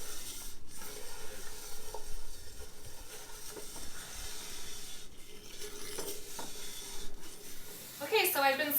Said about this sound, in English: Okay, so I've been sauteing the rice for about 5 minutes or so.